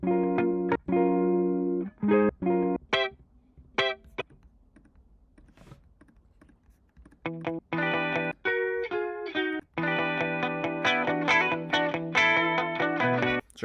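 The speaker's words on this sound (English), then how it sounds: "we're going to get a lush guitar loop" A lush guitar loop playing with sustained, stacked harmonic chords, dropping out briefly around the fourth to seventh seconds before returning fuller and steady through the end, with no talking.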